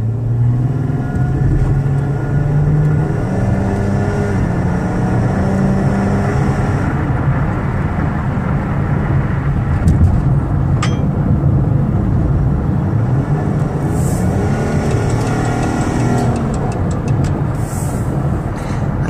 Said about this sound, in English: I'm going to give it some gas.